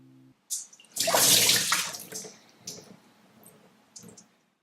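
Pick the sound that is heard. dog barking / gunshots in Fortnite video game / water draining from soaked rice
water draining from soaked rice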